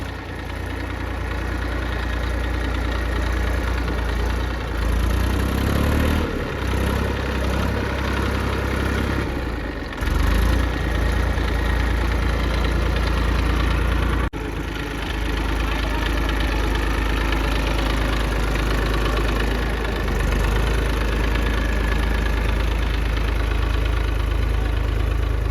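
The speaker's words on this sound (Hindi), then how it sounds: "तो गाइस ये ट्रैक्टर चला रहे और खेत जोत रहे।" A tractor engine runs steadily while ploughing a village farm field, a loud continuous low rumble with a few brief dips in level, close to the microphone throughout.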